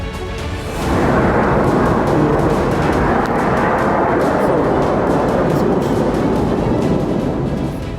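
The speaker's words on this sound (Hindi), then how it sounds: "दिन के उजाले में भी ईरान की मिसाइलें भीषण धमाके करती रहीं।" A deep, sustained roaring rumble from Iranian missile explosions in daylight, a low heavy blast that swells quickly and stays loud and steady for several seconds, with no talk.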